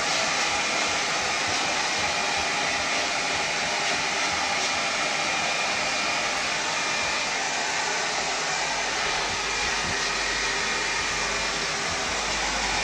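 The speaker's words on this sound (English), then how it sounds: "Oh, that's a nozzle blower." A hair dryer fitted with a nozzle attachment blows steadily and loudly while a man's hair is dried after a haircut, a continuous close whooshing roar with no pauses and no talking.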